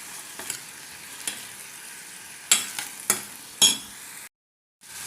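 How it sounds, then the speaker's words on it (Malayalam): Tomatoes fry in a pan for an egg kofta curry, giving a steady soft sizzle broken by a few sharp clinks and scrapes of stirring, then a brief silence before the frying resumes. "ഇനി തക്കാളി ഇട്ടിട്ട് നന്നായി ഫ്രൈ ചെയ്യുക"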